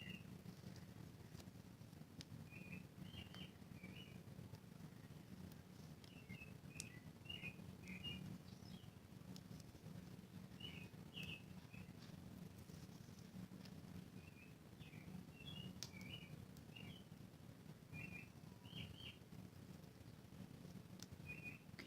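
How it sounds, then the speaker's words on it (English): Birds sing outside in faint, scattered bursts of high chirps and short trills, distant and quiet over a low background hum. "Can you guys hear the birds?"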